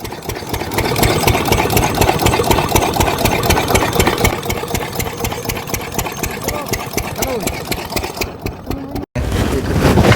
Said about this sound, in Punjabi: ਇਸ ਵਕਤ ਪੰਜਾਬ ਦੀ ਉਸ ਧਰਤੀ ਤੇ ਖੜਿਆ ਜਿੱਥੇ ਤੁਹਾਨੂੰ ਸਾਰੇ ਪਾਸੇ ਇੰਜਨ ਚੱਲਦੇ ਮਿਲਣਗੇ